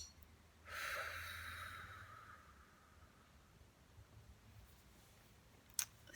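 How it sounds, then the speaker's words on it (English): A slow, deep breath drawn in during a guided grief meditation, a soft airy rush lasting about two seconds in a quiet room, followed by near silence and a faint click. "So let's take a deep breath."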